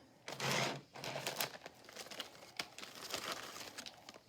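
Close, crackly crinkling of a plastic bag being handled, one loud rustle at the start then continuous softer scrunching and rustling.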